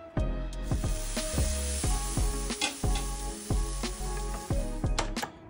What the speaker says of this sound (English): I think time to get the steak on.